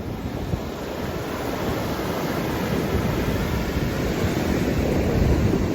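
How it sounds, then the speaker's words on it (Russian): Ocean surf washes in steadily at Venice Beach, California, a loud continuous roar of waves blended with heavy wind buffeting the microphone, no voices present. "шум океана."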